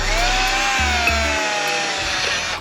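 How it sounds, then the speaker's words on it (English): Power drill boring bolt holes while a supercharger and big brakes go onto a cheap drift car: a loud, steady whine with pitch that sags and climbs as the bit bites, plus brief stops, running alone with no voices. "I just got done drilling out these holes"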